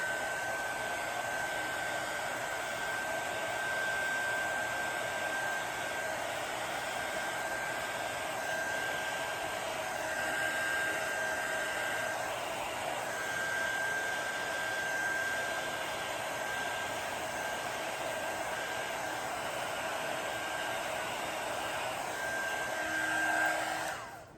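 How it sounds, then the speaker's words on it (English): A heat gun blows hot air over an emerald green coaster, giving a continuous, close, steady rushing whir with a faint tone running through it. "I'm going to come back in with my heat gun and move it around"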